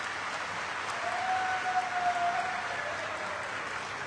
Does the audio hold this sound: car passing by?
no